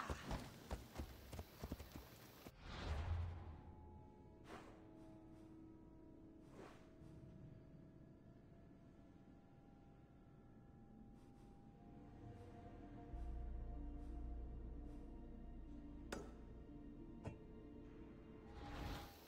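Horse hooves clip-clop steadily at a walking pace in Assassin's Creed Odyssey, close and moderately loud, with a few sharper clatters and a low rumble swelling near the end.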